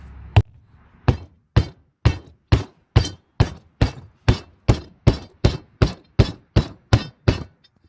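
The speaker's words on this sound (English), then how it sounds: "you can use a regular hammer, but I happen to have a sledge" A sledgehammer pounds metal during a DIY camp tripod build, fifteen loud, evenly spaced strikes ringing out one after another, close up and alone.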